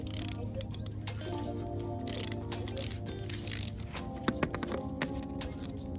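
A ratchet works a 14 mm bolt on a Miata steering rack, giving repeated quiet clicking strokes over a low, steady background hum.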